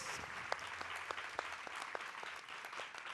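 An audience at a book fair talk applauds with steady, dense clapping and a few sharper claps standing out, filling the whole moment without voices.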